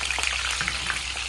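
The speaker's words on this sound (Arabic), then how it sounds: "ومنبدأ بالقلي" Zucchini frying over medium heat in ghee and Mazola oil, a dense steady sizzle with small crackling pops, close and loud, brief and without voices.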